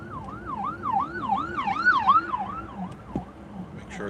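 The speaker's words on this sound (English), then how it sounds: "I see an ambulance coming." An ambulance siren wails in rapid rising and falling sweeps on a road in the Smoky Mountains, growing louder and then trailing off as it passes close by, with road noise underneath.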